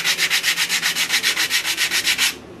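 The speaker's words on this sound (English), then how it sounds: "it'll sand it nice." A sanding block is rubbed back and forth over wood by hand for a fingerboard, giving about fifteen even, rhythmic rasping strokes up close before stopping abruptly, with no voices.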